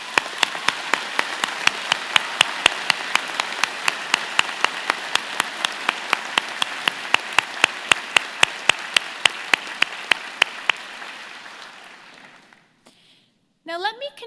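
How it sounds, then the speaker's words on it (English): Graduation convocation applause at Victoria College, a steady wash of clapping from a large crowd with a few sharp, regular claps cutting through, fading out before a brief sound at the end. "join me and the platform party in thanking them with a"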